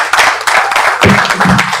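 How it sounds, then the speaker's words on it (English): Applause from an audience at a television channel launch event, steady close clapping from many hands filling the short moment without pause. "Let us continue with the organic round of applause."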